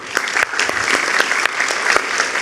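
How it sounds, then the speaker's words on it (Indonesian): Applause from an audience at a talk on Indonesian higher education, a dense, steady patter of many hands with a few sharper claps standing out, moderately loud throughout. "Oke, kita berikan tepuk tangan dulu."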